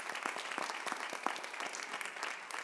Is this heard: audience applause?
yes